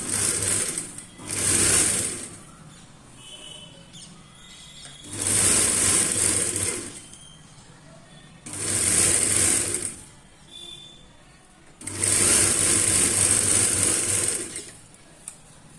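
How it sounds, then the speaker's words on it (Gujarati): Sewing machine stitching a folded cloth hem on boys' shorts: four loud, steady whirring runs of stitching, separated by short pauses with softer handling noises, close and with no talking. "હવે આપણે આવી રીતે સિલાઈ કરી લેશું."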